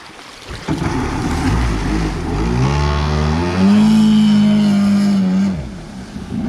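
Kawasaki 650 Wavejammer jet ski engine with a modified hood runs close by, its tone rising to a loud sustained rev in the middle before easing off, with no talking.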